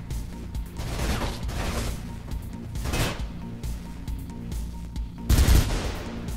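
Gunfire in the video game Mirror's Edge: bursts of shots crackle through a steady game background, with a heavier, louder volley near the end.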